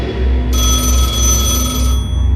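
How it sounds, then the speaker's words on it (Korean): A loud, continuous electronic ringing tone from a telephone, sustained and close, with a low hum beneath it. "어둠 속에 울린 한 통의 전화"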